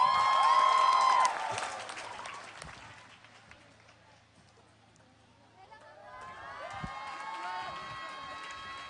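A crowd claps and cheers at an Indonesian flag-lowering ceremony concert on 17 August, with a loud swell at the start, a quieter lull in the middle, and the cheering rising again near the end.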